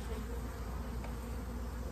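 Defensive honey bees buzzing at a winter hive inspection, a steady, dense hum heard close and continuous throughout, with no talk.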